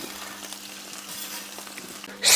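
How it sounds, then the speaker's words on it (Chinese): Onions stir-frying in plenty of hot oil on an iron griddle, a steady close sizzle throughout that swells louder and brighter in the final moments. "油热下入洋葱，洋葱给它煸出洋葱味儿"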